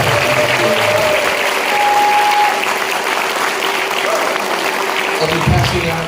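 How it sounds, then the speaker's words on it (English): Loud, sustained audience applause fills a school band pops concert hall in honor of a state-winning school wind ensemble, continuous and close throughout with faint crowd noise mixed in. "So give them a round of applause."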